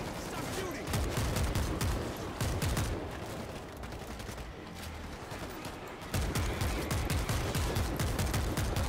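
Dense, heavy gunfire from the zombie shooter World War Z on PC: continuous overlapping shots and bursts that stay loud and close throughout, dipping briefly in the middle before surging again, with a voice occasionally underneath.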